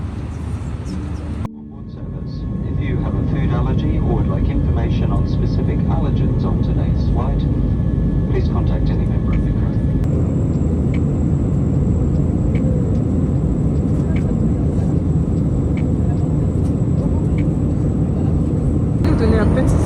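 Inside an airplane cabin before takeoff, a steady loud roar of engines and air systems fills the space, with a sharp drop near the start and then a constant drone, faint tones and murmuring passengers above it.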